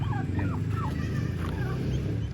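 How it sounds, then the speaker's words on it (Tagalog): Several turkeys gobble in quick warbling bursts over a loud, steady mechanical hum, close by and overlapping. "Malalaki na yung mga pabo natin oh"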